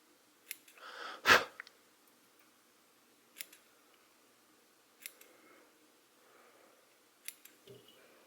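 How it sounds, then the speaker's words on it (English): Several crisp scissor snips spaced a second or two apart, one louder close cut near the start, against a quiet background without speech. "So take my scissors and just trim those straight across."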